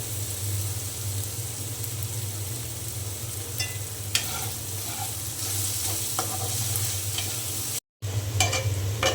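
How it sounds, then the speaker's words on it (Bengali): Small chopped potatoes and onions fry for biryani with an even, moderate crackling hiss over a steady low hum, with a few faint stirring clicks and a brief dropout near the end. "আমার পেঁয়াজ আর আলু ভালো করে ভেজে নেওয়া হয়ে গিয়েছে"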